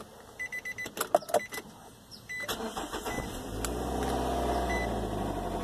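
A car with a repaired chip key, the chip glued back in with silicone: a few quick clicks and mechanical clunks, then the starter cranks and the engine catches into a low steady idle, close up and without talk.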